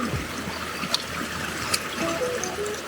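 Water scooped by hand from a small pool in a flowing backcountry stream, soft trickling and light splashes with a couple of brief sharper drips over a steady gurgling background.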